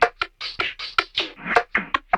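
A percussion loop made for a beat, with a fast run of short, crisp, clicky hits in a quick uneven pattern, close and dry, with no talking.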